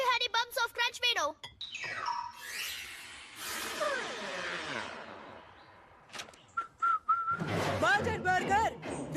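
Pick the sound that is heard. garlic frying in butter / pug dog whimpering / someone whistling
someone whistling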